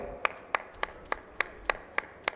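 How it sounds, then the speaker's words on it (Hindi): Sharp, evenly spaced hand claps, about eight in a steady rhythm, ring out at an inauguration ceremony for highway projects in Haryana, fairly close and clear against a quiet hall. "आप सभी की जोरदार तालियां एक बार"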